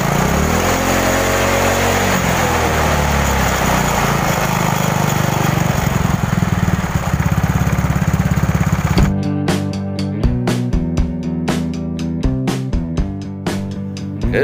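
A motorcycle engine revs hard and loud, first a rough rising drone, then from about nine seconds a rapid pulsing exhaust beat at higher revs, with no talking.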